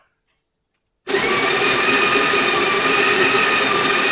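A coffee grinder in a Moccamaster Select setup kicks on after a second of silence and grinds beans with a loud, steady, close whirring roar that holds to the end; a single word is spoken just before it starts.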